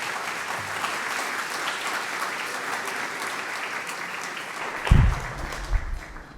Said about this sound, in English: So please give a round of applause to our mayor, Sonny Santa Ynez.